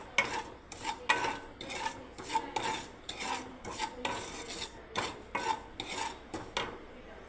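A Holi sweet cooked in butter being stirred in a pan: repeated close scraping and rubbing strokes in an uneven rhythm, with light metallic clinks and no talking.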